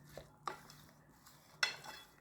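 Cucumber salad being mixed with soy sauce and olive oil for a Korean side dish, giving a few soft clinks and scrapes of a utensil against a bowl, quiet and close with gaps between.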